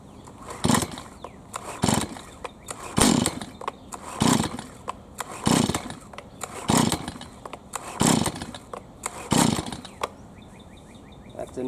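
Repeated pull-start attempts on a Stihl MS210C chainsaw set to full choke, about eight evenly spaced rasping recoil pulls, each a short loud burst, with no engine catching.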